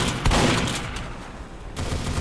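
Gunfire in Team Fortress 2, a rapid burst of loud broadband shots at the start with further shooting toward the end, set over a steady game backdrop.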